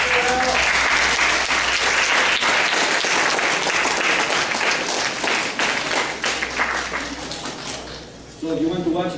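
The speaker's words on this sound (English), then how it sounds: "You give him a clap." A lecture-hall audience in a university chemistry class claps for a classmate, dense steady applause filling the room before thinning out near the end as a voice starts talking.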